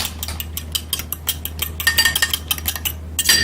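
A fork clinks rapidly against a bowl while whisking a soaking mixture for drunken apple mint French toast, with quick repeated taps over a steady low kitchen hum.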